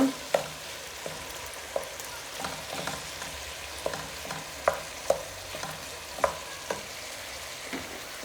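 Curry rice with bacon bits and vegetables being stirred in a pan. A steady sizzle of frying sits under irregular scrapes and clicks of the utensil against the pan, with no voices.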